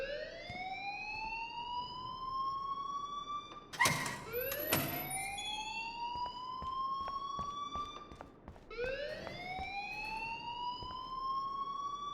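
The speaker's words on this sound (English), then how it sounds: "please turn off that alarm since that's your job" A school alarm in the video game Life Is Strange rings loudly in repeated rising siren sweeps that climb and restart several times, broken by brief sharp clatters and thumps partway through.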